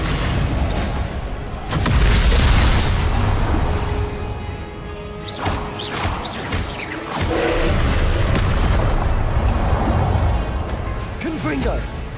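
Explosive Confringo blasting spells from the Hogwarts Legacy video game burst in repeated heavy booms and crashes, loud and close, with a voice speaking over the bursts.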